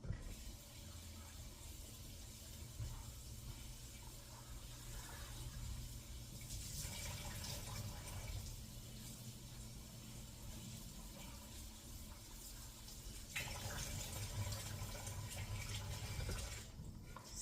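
Tap water runs steadily while raw fish is washed for making fish tea, a continuous splashing rush with slight surges and no talking.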